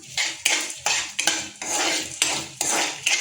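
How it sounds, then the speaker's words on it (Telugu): A spoon stirs dry red chillies and rice frying in a metal pan for sambar, making repeated scraping strokes with sharp clinks against the pan at an even, close rhythm. "అవి కూడా ఇప్పుడు కలుపుకొని వేపుకోవాలి."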